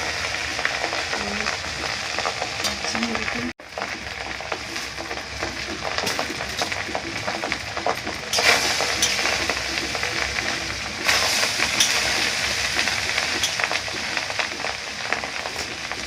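Food sizzles and crackles steadily in a pan while it is stirred and mixed for a birthday meal, a continuous close frying hiss with a brief dropout near the start and no talk.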